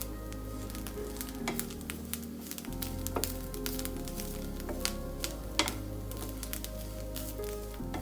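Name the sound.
grated coconut dry-roasting and being stirred in a pan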